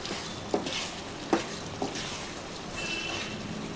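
Raw prawn curry fries in a pan as the liquid cooks off, a steady sizzle broken by three sharp spatula taps against the pan and a gentle scraping stir, with no one speaking.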